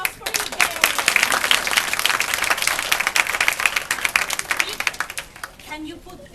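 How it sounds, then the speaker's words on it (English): An audience at an English-language children's storytelling show applauds a young boy named Iker, giving several seconds of dense, lively clapping that fades near the end, with voices over it. "A big round of applause for Iker."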